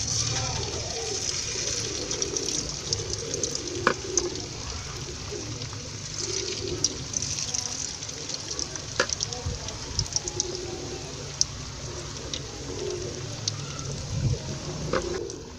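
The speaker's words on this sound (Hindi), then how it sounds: "घी हमारा गर्म हो गया है। अब हम इसमें डालते हैं आलूओं की चिप्स।" Potato chips fry in hot ghee, giving a steady close sizzle dotted with small crackles and pops, with a voice talking faintly over it.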